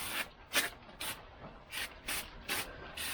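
Brake cleaner sprayed from an aerosol can onto Lambretta GP rear brake shoe linings, about seven short hissing bursts in an uneven rhythm, close and fairly quiet.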